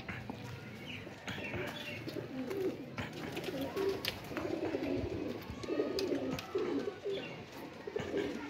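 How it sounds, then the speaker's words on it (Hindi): Pigeons coo in low, throaty bursts close by, with occasional wing flaps and rustling among the birds. "ये हमारा कबूतर है जी"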